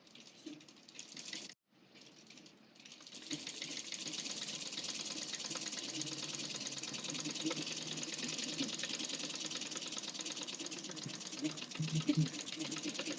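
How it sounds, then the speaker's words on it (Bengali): Sewing machine stitching folded kameez sleeve and body fabric: a steady, close mechanical whir that runs continuously after a brief stop-and-start near the beginning, with a voice talking faintly in the background. "বডির কাপড় আর হাতার মোড়ার কাপড় ভাঁজ করে সেলাই করে নিচ্ছি।"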